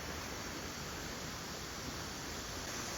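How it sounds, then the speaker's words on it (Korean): Water flowing in a quiet park, a steady broadband rush with no breaks, soft and constant throughout with no voices over it. "공원 어디서든 물소리가 들려서 참 좋았다"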